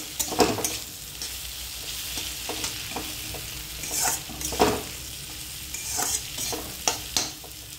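Coriander stirred while frying in a pan: steady sizzling with intermittent scraping strokes of a spoon against the pan, close and fairly loud.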